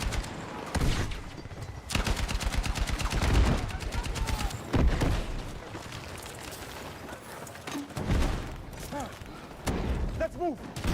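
Bursts of rifle fire in Counter-Strike 2, rapid rattling volleys broken by pauses, mid-distance, with footsteps and voices talking over parts of it.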